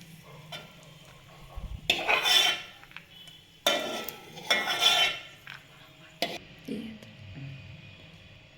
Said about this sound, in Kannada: ಇದೇ ತುಪ್ಪದಲ್ಲಿ ರವೆ ಹುರ್ಕೊಳ್ಳೋಣ